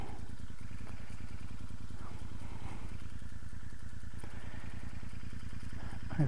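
A Royal Enfield Interceptor motorcycle engine runs steadily on the road through the Cotswolds, a continuous low throbbing exhaust pulse heard close with wind noise and no talking.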